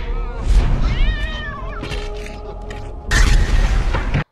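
A cat in the 1994 film The Crow gives a rising, wavering meow, then a louder crashing boom follows, all close and loud.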